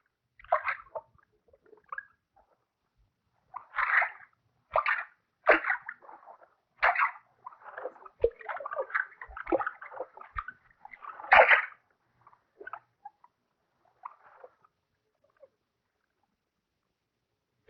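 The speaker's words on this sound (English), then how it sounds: "They row downstream to one of the spots where they know the fish are likely to be found." Fishermen row a wooden boat downstream on a Hungarian river in 1966. Oar strokes splash and slosh close by in an irregular rhythm of soft bursts, with quiet pauses between them and no talking.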